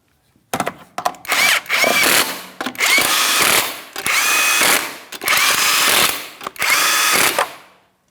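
A power tool bottoming out the five lug nuts on a 2007-2014 Ford Edge wheel in a crisscross pattern, a string of loud, close whirring and rattling bursts, one per nut, separated by short gaps.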